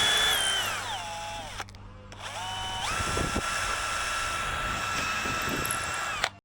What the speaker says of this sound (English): So just aiming for the little black dot I made to know where to drill a hole.